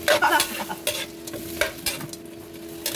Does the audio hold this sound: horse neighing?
no